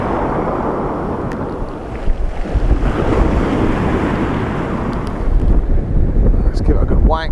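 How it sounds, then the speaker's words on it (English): Strong coastal wind buffets the microphone while sea bass fishing, a loud continuous roar with gusts over the surf, and someone talks faintly beneath it. "It's very windy"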